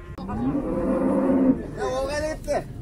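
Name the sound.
cattle mooing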